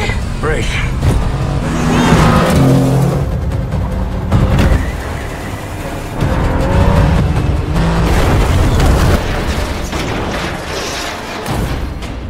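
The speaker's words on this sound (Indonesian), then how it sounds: "Beruntung Kate juga datang dan segera mengajak Vale untuk mengejar Redek sampai terjadilah kejar-kejaran" A car chase in an action film: engines roar and crashes and booms hit loudly throughout, mixed with dialogue and a dramatic soundtrack.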